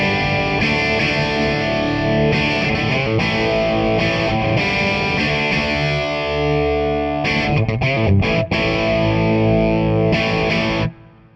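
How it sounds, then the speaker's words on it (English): A Fender Twin guitar amp cranked to 10 on its normal channel plays thick, driven electric guitar chords and riffs, loud and sustained with brief choppy breaks, ending abruptly. "Fender Twin, known as a clean amp, cranked to 10, sounds like this."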